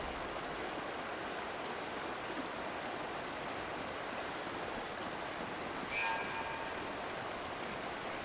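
A waterfall near a broken bridge in the video game Uncharted: Drake's Fortune gives a continuous, even rushing roar of water, steady throughout with one brief brighter splash, heard alone.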